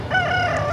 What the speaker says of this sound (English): We got roosters next to us as a form of wake-up device.